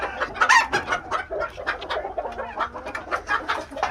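Chickens cluck and squawk steadily on a poultry farm, several birds close by producing a busy, overlapping chorus of short calls with no talking.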